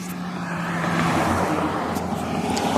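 A classic car passes by on a street, its engine rising and swelling close by over a short stretch with no talking.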